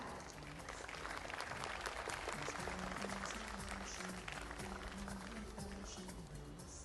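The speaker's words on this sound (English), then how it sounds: "Finally, I hear some noise from our audience here." An audience cheers and applauds at the launch of the Mahi Racing Team India, a steady dense wash of clapping and crowd noise held at a constant level throughout.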